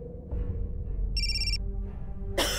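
A telephone rings in a Pakistani drama scene, one bright electronic ring burst standing out over a low background hum, then cut off, with a second burst starting at the very end.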